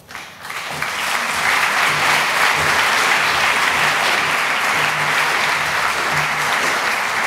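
A lecture audience claps steadily after the talk ends, a loud, dense and sustained wash of applause that swells in within the first second and holds for several seconds.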